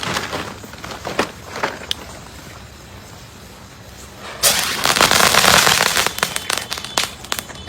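Firecrackers and fireworks go off in a string of sharp pops and cracks, then a quieter lull, then a dense, loud burst of crackling explosions.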